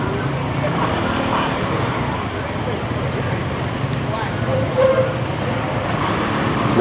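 Town road traffic heard from a push bike, a continuous near rumble of engines and tyres with passing vehicles and a brief louder swell, with people talking over it.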